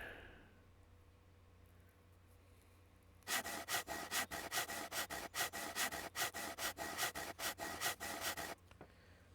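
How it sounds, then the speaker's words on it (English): A hand saw cuts through wood in the survival game SCUM: after a quiet start, about a dozen quick, rhythmic rasping strokes sound close and clear, then stop abruptly. "let's use the saw for this"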